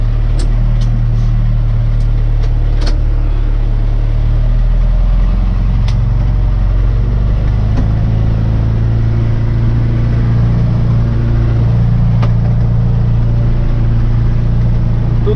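Tractor engine running steadily from inside the cab while spraying flowering rapeseed, a loud, even mid-pitched drone with faint clicks and rattles and no talk.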